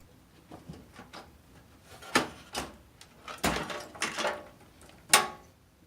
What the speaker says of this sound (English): push that down and then push the power supply out